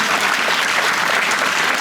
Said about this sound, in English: round of applause for the young lady